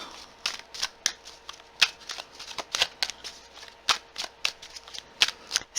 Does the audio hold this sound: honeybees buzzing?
no